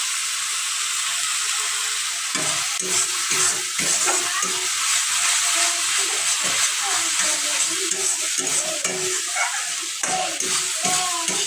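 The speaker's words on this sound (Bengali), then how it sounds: "ভালো করে কষিয়ে নিচ্ছি" Young jackfruit kofta masala being stir-fried in a pan gives a steady close sizzle and hiss, with irregular scraping strokes of a spatula through the thick spice mixture.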